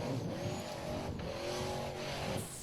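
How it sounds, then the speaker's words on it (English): A Formula Offroad race car climbing a steep bank at an Icelandic event in Akranes, its engine revving hard and high in a sustained, wavering whine heard from a moderate distance. "Big roll for Númi"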